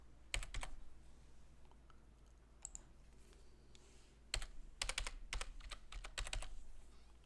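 Bursts of fingers typing a password on a computer keyboard while setting up a Linux Mint 18.1 login: quick clustered key clicks, a short burst, a sparse pause, then a denser run of keystrokes, close and clear over faint hum.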